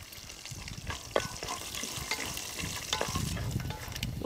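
Green chillies, peanuts and curry leaves crackle in hot oil for a tempering, a close, uneven sizzle with occasional pops and stirring scrapes.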